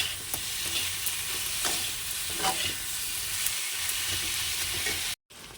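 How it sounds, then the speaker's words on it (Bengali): Spice paste and onions fry in a pan with a steady broadband sizzle and occasional scraping stirs, close and even, with a brief dropout near the end. "এবার একসঙ্গে এটা আবার ভেজে নেবো মিক্স করে নিয়ে একটু ভালো করে এই মশলাটাকে কষিয়ে নেবো"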